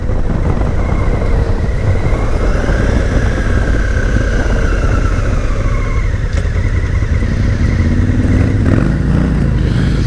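A 2017 Honda Africa Twin motorcycle riding through corners, a loud continuous engine drone with wind rush close to the bike, pitch rising and falling as the rider works through the bends.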